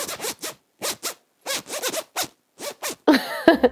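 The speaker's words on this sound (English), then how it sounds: "I love the sound a zip makes when you open and close it." A clothing zip is pulled open and closed repeatedly in short, crisp rasping strokes, close and clear with brief silences between, ending in a rougher scratchy burst.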